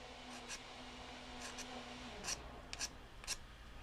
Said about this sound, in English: I'm sharpening my chalk with my scissors right now.